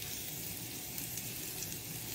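Curry leaves fry in ghee in a pan with a soft, steady sizzle and crackle, quiet and continuous throughout.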